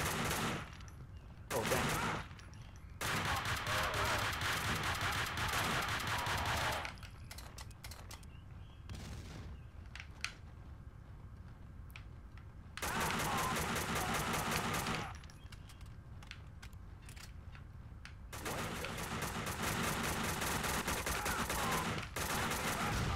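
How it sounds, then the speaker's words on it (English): Sustained bursts of automatic gunfire in Max Payne 3's shootout, loud and rapid, coming in several long volleys separated by short lulls, with a brief spoken exclamation between them. "They always seem to shoot you even though shit's going down."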